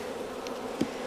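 Honey bees buzz steadily at a crowded hive during a split from a strong colony, a continuous close droning hum with a brief louder bump near the end and no voices.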